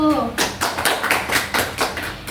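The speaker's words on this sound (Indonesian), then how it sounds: "Kita beri tepuk tangan dulu nih untuk Ayu" Students in a group guidance class clap for a classmate, a short burst of several clap strokes in a loose rhythm, fairly close and alone after a voice fades at the start.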